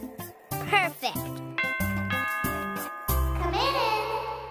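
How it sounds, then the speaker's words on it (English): A cartoon doorbell chimes in ringing tones amid lively background music, with a bright, sustained bell-like ring toward the end. "Or how about I just ring the doorbell?"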